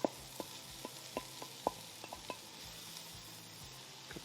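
Chopped pancetta frying in a pan for a Bolognese, a steady low sizzle with a series of short stirring clicks and knocks against the pan, close and fairly quiet, with no one talking.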